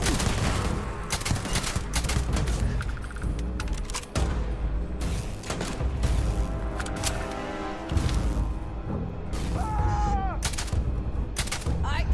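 Gunfire from the video game Starfield, with dense, repeated bursts of shots and booming impacts running almost without pause, loud and close, while a voice speaks over the fighting.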